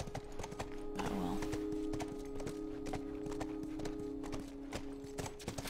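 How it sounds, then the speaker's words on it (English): Horse hooves clip-clop steadily in The Last of Us as the animal is led into a building, a rapid even rhythm of close strikes over a sustained low game ambience, with a brief whinny-like sound near the start. "Not quite sure why Ellie thinks it's a good idea to take a horse into a building."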